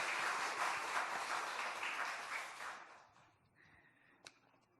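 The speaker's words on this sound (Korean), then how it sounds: "우리 어르신들 포함해서 우리 남자 성도님들 격려하면서 박수 한번 할까요?" A church congregation bursts into steady, dense applause to encourage the men of the church, the clapping filling the room for about three seconds before dying away to quiet with a single sharp knock near the end.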